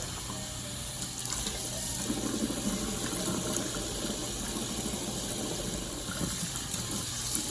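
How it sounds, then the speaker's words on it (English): Water runs steadily from a tap while sausage casings are rinsed inside and out in water of about 90 degrees, making a continuous close gushing and splashing sound with no talk. "So you want to wash these in about 90-degree water, inside and outside."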